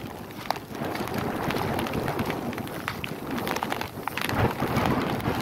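Strong wind and heavy rain sweep across a rice field, a continuous loud roar of rain with rumbling gusts hitting the microphone and brief sharp spatters throughout.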